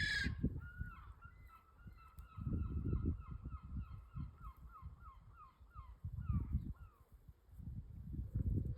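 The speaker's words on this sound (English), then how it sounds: "It's a seagull, Olivia." A seagull calling near backyard chickens: a run of repeated, honking cries in quick succession, fairly clear against low, intermittent thumps and clucking-like rumbles in the background.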